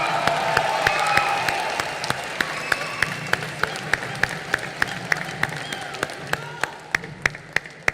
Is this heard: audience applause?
yes